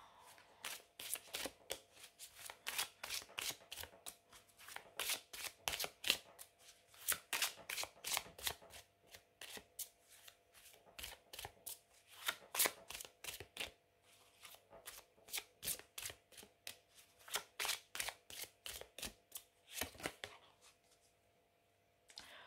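Oracle cards shuffled by hand in a quiet room: rapid, crisp riffling bursts repeating in a steady rhythm for about twenty seconds, close and clear, with no talking.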